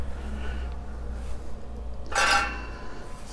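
Metal lid of a Hunsaker Vortex drum smoker lifted off, giving a single short, close clank and scrape midway through, set against a quiet, steady low hum.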